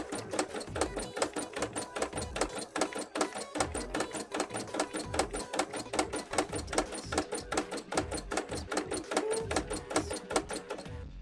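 An embroidery machine stitches zigzag fill on a cosplay panel, a rapid, steady mechanical clatter of needle strokes running continuously and close by with no voices.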